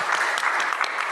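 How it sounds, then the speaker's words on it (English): Dense, steady applause from an audience at a patient-experts event, continuous and fairly close, with no talk over it. "Please clap for Kenya."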